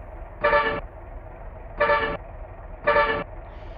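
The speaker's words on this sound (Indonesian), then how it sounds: "Dan ini kita akan cobain dulu untuk klakson di bagian setir ya." A bus steering wheel horn in a Bus Simulator Indonesia mod sounds three even, separate honks, each about a third of a second, bright and close over a low idling engine hum.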